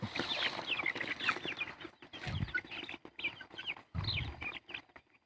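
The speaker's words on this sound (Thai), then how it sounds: "นี่นะครับไก่นะครับ" Several Thai Pin Khiri and Yok Khiri chickens clucking and squawking close by, overlapping calls in short bursts with farmyard rustling, no talking.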